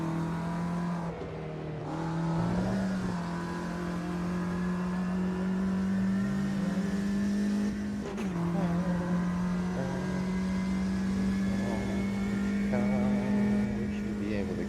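A Ginetta G40 race car engine in Automobilista 2 drones with a steady buzzing note, climbing and dropping in pitch through gear changes, with brief dips as it shifts.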